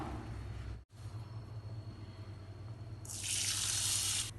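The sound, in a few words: washing lentils under running tap water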